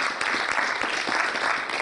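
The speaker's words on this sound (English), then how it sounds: "I think 4Life deserves a round of applause for that." Audience applause at a business presentation, dense continuous clapping filling the short moment at an even level.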